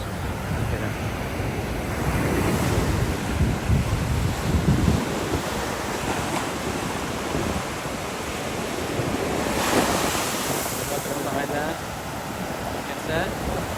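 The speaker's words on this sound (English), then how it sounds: "Oh, there's the waves. There's waves." Ocean surf rolls onto a sandy beach in a continuous wash, with wind buffeting the microphone, swells building and fading, and faint talk in the background.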